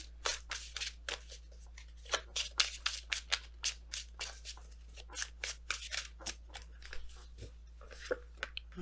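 A deck of tarot cards is shuffled in a series of quick, crisp riffles and flicks, close and fairly quiet, over a low steady hum.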